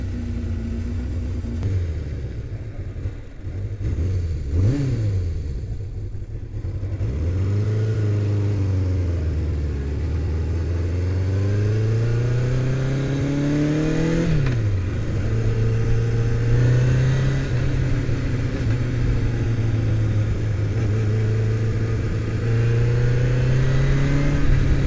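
A 1978 Honda CB750F motorcycle engine idles and warms up. Its loud, close rumble rises and falls with a few revs, then settles into a steady run with no voices.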